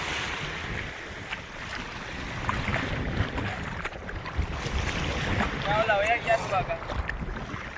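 Strong wind over the sea on a fishing boat, a steady loud rushing roar buffeting the microphone throughout, with faint water wash beneath and a brief distant voice near the end.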